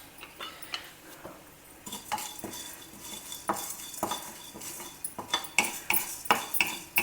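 Tuvar, urad, moong and channa dal are dry roasted and stirred in a pan, with a steady run of scraping and clinking strokes of a utensil against the metal, close and fairly quiet, growing busier toward the end.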